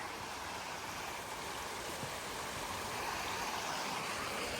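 Waterfall behind a Shiva temple at Kondeshwar, a steady broadband rush of falling water, constant and fairly faint, with no voices over it.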